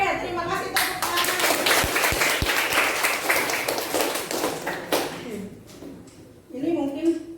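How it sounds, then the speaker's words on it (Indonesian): Students in a classroom clap together in a loud, dense burst of close hand claps that thins out and fades before a voice speaks at the end. "Oke, terima kasih tepuk tangan."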